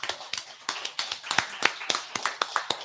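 Hands clap live in a radio studio at a steady, brisk rhythm, about a dozen crisp, close claps with nothing else over them.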